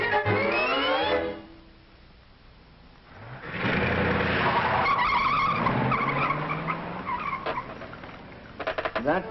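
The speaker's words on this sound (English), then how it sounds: "That car." A car tears away with tires squealing and skidding loudly, the engine revving hard, then a pause before more screeching and engine noise close by; no one speaks.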